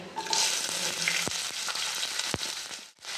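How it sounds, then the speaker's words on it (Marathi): Finely chopped onion tossed into hot oil with mustard seeds and bay leaves bursts into a loud, dense sizzle, with a few sharp clacks of the spoon, and the sizzle fades out at the very end. "आता यात मी एक मोठा बारीक कापून घेतलेला कांदा टाकत आहे"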